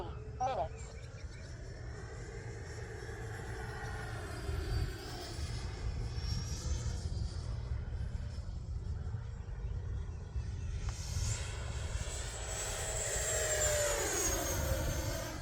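An RC electric ducted fan jet model makes a fast speed pass, its high whining rush rising and falling in pitch as it sweeps by, with people talking over it.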